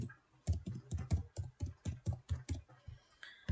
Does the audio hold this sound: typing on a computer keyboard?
yes